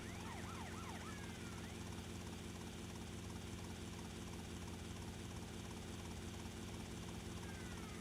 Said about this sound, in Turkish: Ama böyle sürüyor helikopter.